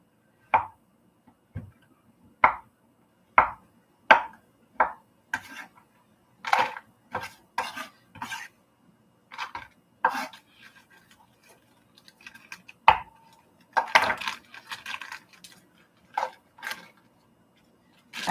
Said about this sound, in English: I'm just chopping it up so that it will not take as long to melt.